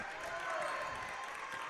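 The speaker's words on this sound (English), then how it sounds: "a polite round of applause from the Warrior faithful for the defense that's being played" Polite applause from a girls basketball crowd in a gym, a moderate, steady patter of clapping under a commentator's voice.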